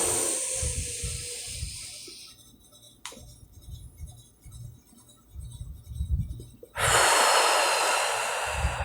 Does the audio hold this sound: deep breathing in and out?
yes